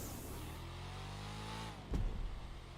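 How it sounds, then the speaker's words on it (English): A small-displacement, high-compression V8 engine in a car in GTA 5 revs steadily with a rising whine for nearly two seconds, then a sharp thump and rough burbling as the throttle is released. "it actually sounds, kind of like a high compression small V8"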